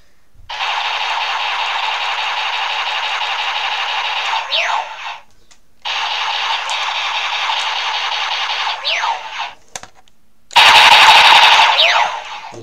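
Trigger sound effects from a DX VS Changer toy of the Lupinranger VS. Patranger series: two long, loud electronic rattling bursts like rapid gunfire, separated by a short gap, then a harsher final blast, with no talking.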